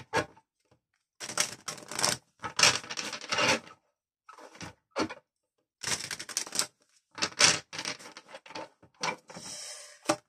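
Oracle cards being shuffled in bursts of dry papery riffling and rubbing, close and fairly loud, separated by short silences.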